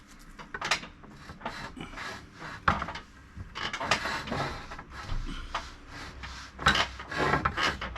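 A Wertec 120 cm manual tile cutter scores a large tile, giving irregular, close rasping scrapes in short strokes with small knocks and pauses between them.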